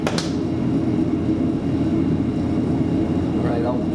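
An early Mercury Mark 55 outboard boat engine running on a steady low drone with a faint sputter near the start, loud and continuous throughout the short span.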